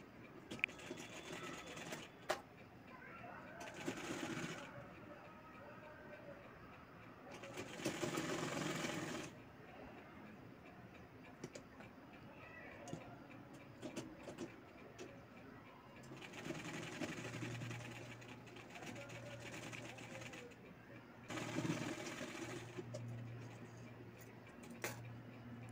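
A sewing machine stitches baby frock fabric in several separate bursts of rapid mechanical whirring, with quiet pauses between runs. The room is otherwise hushed.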